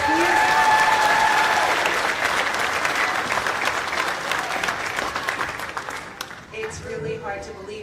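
An elementary school spring concert audience claps loudly for the young instrumental players, the dense applause thinning toward the end as scattered voices and chatter rise through the crowd.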